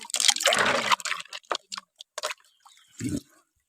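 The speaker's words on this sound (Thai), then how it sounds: "อันนี้ก็จะล้างหอยครับนี่" Shellfish being rinsed in water, giving intermittent splashing and sloshing bursts, heaviest at the start and then in short separate dips, with a final splash near the end.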